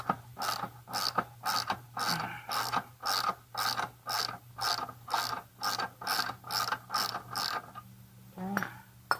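Ratchet wrench clicking on the rear axle nut of a Honda CB300R motorcycle, a steady run of about fourteen close, crisp ratcheting strokes in even rhythm, ending with a faint metallic clink.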